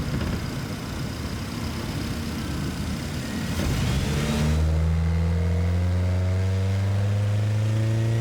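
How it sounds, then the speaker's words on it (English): A car engine revs up from a steady rumble, its pitch climbing smoothly through rising harmonics, loud and close with no talking. "You're going to hear a bit more of the engine opening up."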